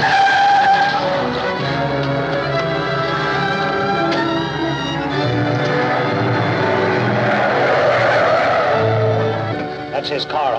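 A car skids during a chase in an old serial, a long, loud rolling roar of tires and engine under a dense musical score, with voices talking over it.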